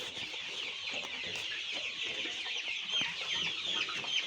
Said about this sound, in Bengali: আবার সব মুরগি জমা হয়ে গেছে